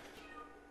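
A house cat meows once close by in a room where old computer hardware and a 16-bit ISA card are being unpacked, a short mewing call that rises and falls over steady room hiss.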